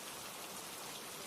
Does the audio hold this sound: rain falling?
yes